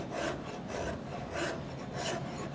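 A rasp scrapes back and forth across a flat wooden workpiece for a puzzle stool, smoothing away saw marks in steady rhythmic strokes, close and fairly quiet.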